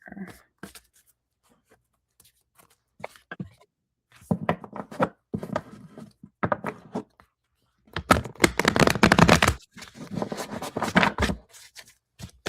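Tarot cards being shuffled up close: scattered soft taps and riffles at first, then a longer burst of rapid, loud card shuffling.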